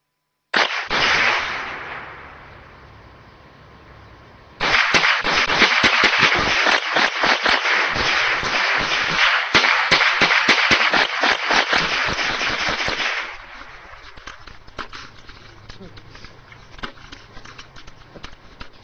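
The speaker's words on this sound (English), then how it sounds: "One of the cool things about shooting this is that we're going to get to actually see inside a CRT monitor." Gunfire aimed at a CRT monitor, with a sharp shot and ringing decay, then a long dense burst of rapid cracks, and finally scattered faint pops and patter, loud and close.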